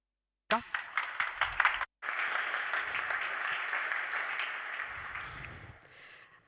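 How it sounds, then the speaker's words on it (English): A conference general assembly audience applauds a speaker taking the floor: a few scattered claps build into a steady round of moderate, somewhat distant applause that tapers off after several seconds. "Round of applause."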